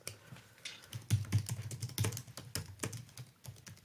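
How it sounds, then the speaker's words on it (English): Keys clatter on a computer keyboard in quick irregular bursts, close and fairly quiet, with no talking. "We finished typing this."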